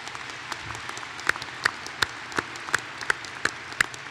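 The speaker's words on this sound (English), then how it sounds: "Let's give them a round of applause" Sparse, distinct hand claps from a small group at a university spring commencement ceremony ring out at a steady rhythm, fairly quiet, with no talking.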